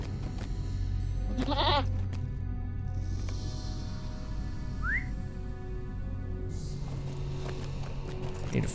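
A goat mount in the video game LOTRO gives a short wavering bleat near the start, amid a steady outdoor ambience with brief whistling tones and faint hoof steps.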